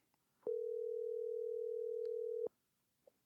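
A steady telephone dial tone holds for about two seconds and then cuts off, clear and alone, with faint clicks before and after.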